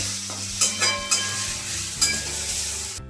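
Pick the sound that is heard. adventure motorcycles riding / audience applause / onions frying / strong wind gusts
onions frying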